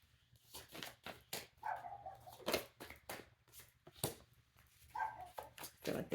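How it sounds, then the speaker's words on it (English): A puppy barks outside in a run of short, sharp yips and barks, fairly faint and a little distant, with a few whimpers between them. "My neighbor's puppy's outside."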